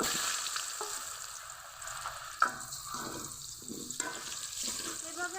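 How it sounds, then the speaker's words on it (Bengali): Potatoes frying in oil with salt and turmeric for rice biryani, a soft, fairly faint sizzle with occasional clinks and scraping stirs, no talking. "আমি বিরিয়ানির জন্য আলু ভেজে নিব তেলের মধ্যে দিয়ে দিব"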